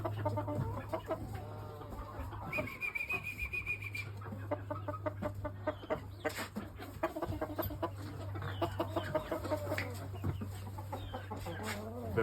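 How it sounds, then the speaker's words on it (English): A pure Oshamo game chicken stag clucks repeatedly in a rapid, uneven stream, with a few longer drawn-out calls, close by over a steady low hum, with other birds faintly around. "this is just one, just to show people what the stags look like."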